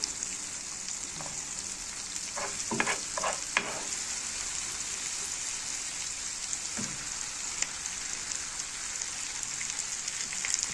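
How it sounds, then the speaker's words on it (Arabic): Fried chicken pieces go into a pan of sauce and sizzle steadily and close, with a few clattering stirs and taps over the constant hiss. "هننزل بقى بالفراخ بتاعتنا اللي حمرناها"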